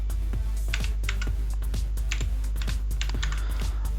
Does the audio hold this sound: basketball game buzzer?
no